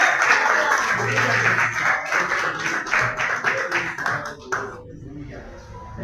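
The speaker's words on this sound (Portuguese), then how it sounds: "aplauda o nome do Senhor Jesus" A Pentecostal church congregation claps together in worship, a dense, steady patter of many hands filling the room for several seconds before thinning out, with voices mixed in underneath.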